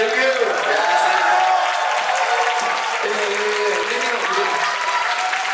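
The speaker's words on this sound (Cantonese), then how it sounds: "俾啲掌聲" An audience at a live rap show claps steadily in loud, continuous applause that lasts the whole stretch, with scattered voices and cheers mixed into the noise.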